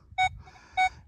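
Two short, bright electronic tones from a metal detector sounding on a buried target near an old homestead building, evenly spaced about half a second apart, close and clear over a low outdoor rumble.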